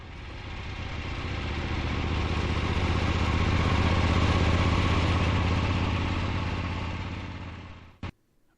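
An Eldorado motorcycle engine runs on static timing, a steady, loud, rumbling idle that swells slightly and then cuts off abruptly near the end, followed by a short clunk.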